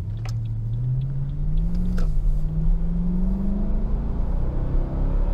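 A 2019 Toyota Tundra SR5 off-road 4x4 pickup accelerates hard, its engine revving in a steady, rising drone that climbs in pitch over several seconds, heard loud and close from inside the cab without talk.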